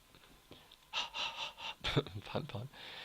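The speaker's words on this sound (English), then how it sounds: "She's panting." A character in the video game Qui Domi pants and gasps in quick, breathy bursts, close and fairly faint, with several sharp intakes of breath in a row.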